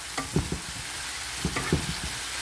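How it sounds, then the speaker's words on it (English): Chicken browning in a pan for empanada filling, a steady close sizzle of frying with occasional scrapes and stirs of a utensil, no talking. "So we're going to make the meat brown or golden brown."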